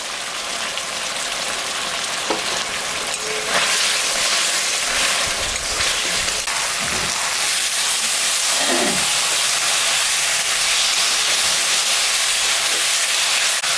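Ground ginger, cumin and chilli paste fry with tomato in a pan for a rohu fish curry, giving a loud, steady hiss throughout with a few faint clinks and stirring sounds. No one speaks.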